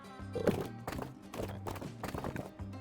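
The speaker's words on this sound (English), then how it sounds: "horse-drawn streetcar." Horse-drawn streetcar in the video game Transport Fever 2, its hooves clip-clopping in a quick, uneven rhythm over a soft musical background.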